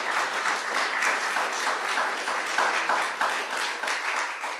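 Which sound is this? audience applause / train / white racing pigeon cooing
audience applause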